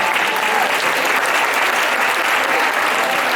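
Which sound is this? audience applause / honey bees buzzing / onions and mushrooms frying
audience applause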